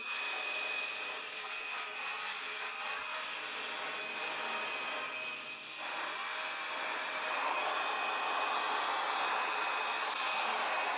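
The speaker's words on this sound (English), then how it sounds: "The hair dryer is about 30 to 40 centimeters high" A steady, loud hair dryer blows continuously with a whooshing hiss over epoxy resin, held about 30 to 40 centimeters above it, its tone shifting slightly as it moves closer and farther; no talking.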